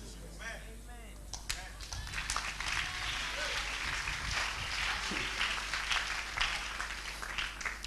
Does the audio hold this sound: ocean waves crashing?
no